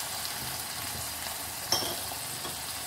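Tomato puree fries with ginger and garlic in a pan, a low, even sizzle with a single small clink partway through, quiet and close with no voices.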